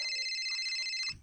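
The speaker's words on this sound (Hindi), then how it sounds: "फोन झुनझुनाता" A mobile phone rings in a village home, a bright electronic ringtone with steady pulsing tones close by, cutting off abruptly near the end as a brief rustle follows.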